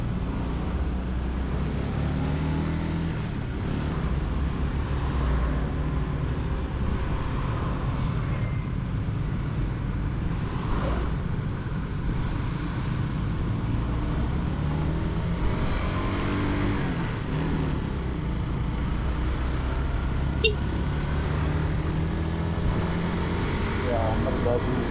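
Dense traffic of cars and trucks queuing on a narrow mountain road, with a constant loud engine rumble and drone close by and a few higher mechanical whines over it.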